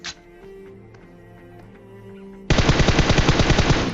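Video game gunfire: after a quiet stretch of low ambient tones, a burst of rapid automatic machine-gun fire erupts, loud and rhythmic, firing continuously to the end.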